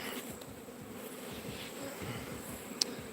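Bees buzz steadily around a hive, a dense droning hum up close, with one brief sharp tick near the end.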